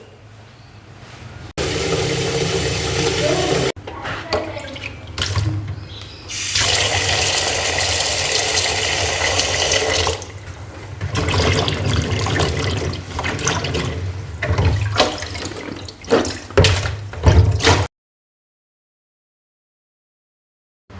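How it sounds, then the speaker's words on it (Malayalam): Grapes being washed under running water at a kitchen sink during meal prep, with bursts of gushing tap flow and splashing that stop and start, then fall silent near the end. "മുന്തിരി നല്ലോണം കഴുകിയിട്ട് വെള്ളം നല്ലോണം തോർത്ത് എടുക്കുകയാണ്"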